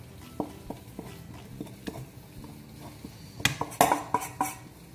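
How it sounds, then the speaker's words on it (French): Choux pastry dough scraped and knocked from a saucepan into a stand-mixer bowl: a run of light utensil taps and clinks, growing into a louder cluster of metallic scraping and bangs toward the end, with no talk. "Je vais transvaser ma pâte dans le bol d'un robot."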